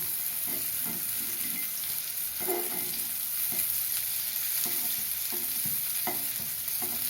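Spicy brinjal slices shallow fry in a pan, a steady close sizzle with soft rhythmic stirring and turning scrapes throughout.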